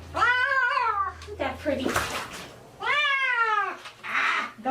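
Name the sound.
cat meowing during its first bath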